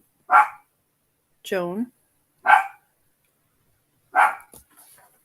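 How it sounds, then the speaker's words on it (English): A dog barks a few times in separate bursts with pauses between, one sounding more like a whine, fairly close, and a brief spoken word comes near the end. "Can you hear barking?"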